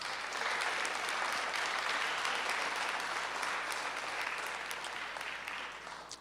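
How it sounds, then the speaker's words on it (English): A theater audience at a student film festival awards screening applauds, a dense, even roar of clapping that holds steady and fades slightly at the end, heard at a distance with no talking. "Please give them a big,"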